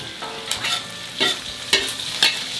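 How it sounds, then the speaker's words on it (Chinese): Cured pig ears and tails are stir-fried in a wok, a steady sizzle broken by several sharp scraping strokes of the spatula at irregular intervals, with no voices. "好香，猪耳猪尾下锅"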